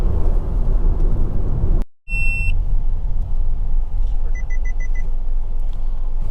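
Hyundai i20 with iMT transmission, its engine and road noise forming a loud, steady broadband hum that cuts out briefly, with a few short electronic beeps chiming over the drone.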